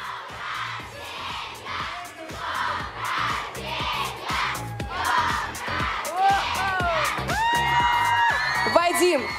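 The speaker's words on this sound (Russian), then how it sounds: "На счет три кричим с днем рождения." A concert audience shouts a birthday greeting together, a loud, dense wave of massed voices with whoops rising over a rhythmic beat, swelling steadily toward the end with a few high cries on top.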